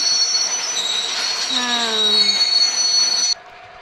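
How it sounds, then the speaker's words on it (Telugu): In the video game Indian Bike Driving 3D, a train rolls along with loud, rising wheel squeals over a steady rumble as it brakes, then the noise cuts off abruptly. "ట్రైన్ అవుతున్న సౌండే వస్తుంది."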